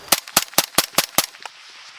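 A suppressed carbine fitted with an OCM5 suppressor fires six quick, evenly spaced shots, each a sharp muffled crack, followed by a fainter trailing pop and a short fading echo outdoors.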